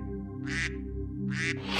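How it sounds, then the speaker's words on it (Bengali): Loud, nasal honking calls from a goose in two short bursts, close by, over a steady tonal background. "রাজহাঁস এখন চিৎকার করছে"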